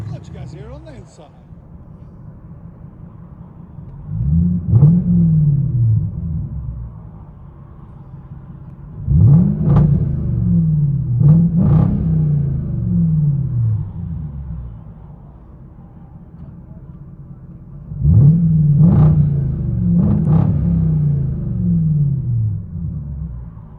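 Cabin of a 2007 Jaguar XK-R with a supercharged 4.2L V8 and muffler delete: a low exhaust drone swells through three revving pulls near 5, 10 and 19 seconds, settling back to a rumbling idle between them, with no talk.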